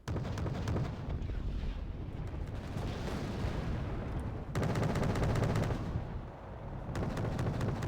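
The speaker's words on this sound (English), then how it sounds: "M3A2 Bradley pounding at the infantry" Continuous battle gunfire from M36 and M3A2 Bradley units in the Wargame Red Dragon video game, with dense overlapping shots and booming blasts forming a loud, unbroken roar that swells and dips briefly.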